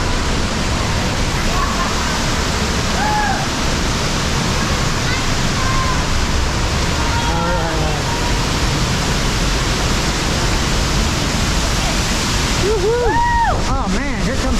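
Steady, loud roar of rushing water fills the whole clip from nearby Seljalandsfoss or Gljúfrabúi waterfall in Iceland, with a few faint chirps near the end.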